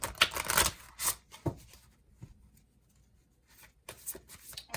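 Angels of Light oracle cards by Diana Cooper being shuffled by hand, with bursts of riffling and sliding card noise at the start and end and a quieter stretch in between, close up and fairly soft.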